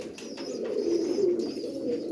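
A pigeon at a breeder's loft coos in a low, continuous warble close by, steady across the whole stretch with faint higher chirps above it.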